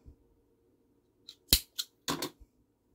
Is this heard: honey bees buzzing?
no